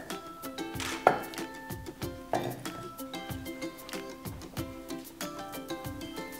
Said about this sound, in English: You cut tofu into a stripe.